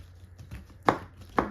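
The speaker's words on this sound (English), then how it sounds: "we're gonna cut a lemon real quick" A knife slices through a lemon on a cutting board in a kitchen, making two crisp, close chopping thuds about half a second apart after a softer first touch.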